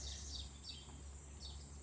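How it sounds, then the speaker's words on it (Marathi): Sparrows chirp in a farm field, giving several short, faint, high twittering calls over a constant outdoor background hum, with no talking. "तुम्ही चिम चिमण्यांचं किलबिलाट ऐकू शकता"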